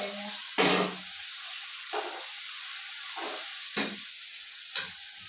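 Onions fry in a pan over a gas stove as a vegetable dish is made, giving a steady close sizzle and hiss with a few short louder bursts as the pan is stirred.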